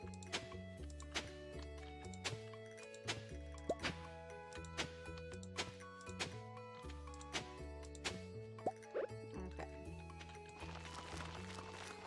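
Crops get watered in the farming game Stardew Valley: soft repeated drip and splash effects land at a steady rhythm over gentle tonal background music, quiet and with no talking.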